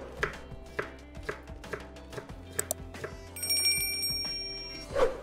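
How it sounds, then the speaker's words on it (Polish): A knife chops pickled cucumbers and mushrooms finely on a board, giving sharp, evenly spaced taps at close range. A bright metallic ringing chimes in partway through. "I teraz tutaj moje wszystkie dodatki sobie posiekam drobno."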